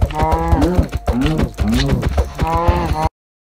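A Minecraft cow lowing repeatedly in loud, close, drawn-out moos that overlap one another, filling the moment before cutting to silence.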